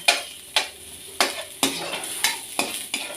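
Onion and garlic fry in a pan as a utensil stirs them, a regular series of sharp scraping knocks about every half second over a faint sizzle, close and alone without talk.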